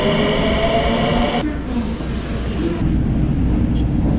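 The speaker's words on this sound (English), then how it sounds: "Just missed another train." A Tokyo underground train rumbles loud and close throughout, a steady heavy roar of wheels and motors with a brief rise in squealing mid-ride and no talking.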